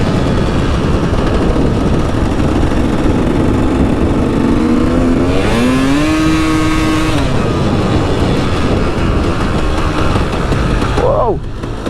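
Dirt bike riding a lap on a flat track, its loud engine droning close to the mic with wind buffeting, rising in pitch as it accelerates and dropping sharply near the end.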